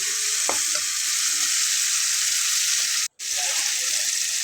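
Thick spice paste cooked down in oil for kochu shaak bhorta, a Bengali taro-leaf mash, sizzles steadily and close up with faint stirring scrapes and one short break near the end.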